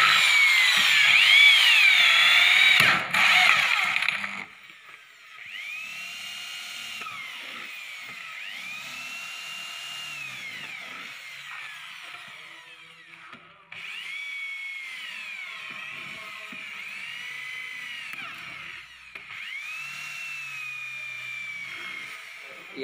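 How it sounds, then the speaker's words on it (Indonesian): A power drill runs in repeated bursts, whirring steadily as it bores holes in a 6-inch pipe, with brief stops between holes, fairly close. "Ya, kita mulai bor pipanya, teman-teman."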